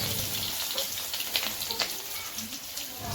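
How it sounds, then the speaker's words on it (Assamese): Sliced onions fry in hot mustard oil in a wok, a steady bright sizzle with scattered pops and crackles, close and even throughout. "পিঁয়াজখিনি ধুনীয়াকৈ ৰঙচুৱা হোৱাকৈ ভাজি ল'ম।"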